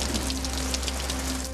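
Steady rain falls in a dense, even wash, loud and close with no voices, like a downpour on a surface during an outdoor scene.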